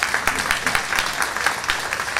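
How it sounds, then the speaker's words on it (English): Audience applause for kids at a junior livestock show in Maverick County, steady dense clapping throughout at moderate distance. "Let's give all those kids a nice round of applause."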